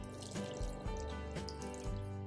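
Water poured into rava dosa batter made from semolina with optional curd, a steady trickling, splashing pour with a few brief surges, close and fairly quiet, with no voices.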